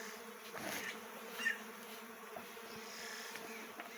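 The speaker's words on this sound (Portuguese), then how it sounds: "Mostra aí mais, faz a abelha entrando." Uruçu stingless bees buzz around their hive box during a colony split, a steady low drone with a few close passes of individual bees over faint outdoor background.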